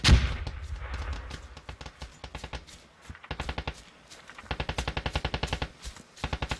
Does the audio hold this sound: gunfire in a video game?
yes